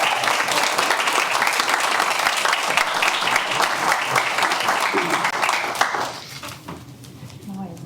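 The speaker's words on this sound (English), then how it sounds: "one more round of applause" A round of applause from a school board meeting crowd, thick and continuous, then it quickly dies away and a voice begins speaking.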